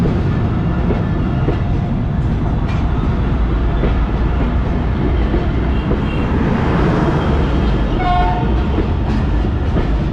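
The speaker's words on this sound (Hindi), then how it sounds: "ये आपने अभी सुना होगा AG30 का हॉर्न।" A train rumbles past a level crossing at Kotlakhpat railway station loudly and steadily, its horn sounding briefly near the end over the continuous clatter of the cars.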